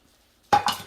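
Shredded chicken stirred into vegetables in a crock pot, a sudden close scraping and stirring burst after a moment of silence, with a few clinks of utensil against the pot.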